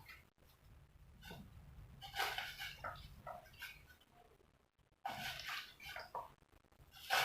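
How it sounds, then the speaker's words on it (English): Potatoes go into a pot of boiling water while cooking Lyonnaise potatoes. Two bursts of splashing and bubbling sit close to the mic with a quieter simmer between them, and no one speaks. "So maji yangu imechemka, nitaweka tu viazi."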